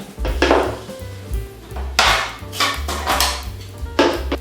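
A spoon scraping soft roasted eggplant flesh and knocking it into a bowl for pasta with pesto and ricotta, a run of close clattering taps and scrapes on the dish.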